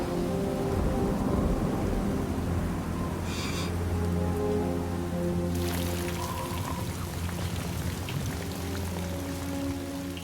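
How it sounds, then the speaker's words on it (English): Heavy rain pours down during a storm in a continuous loud wash, with a low steady hum underneath and a short clattering burst partway through; no voices. "But the rain isn't stopping."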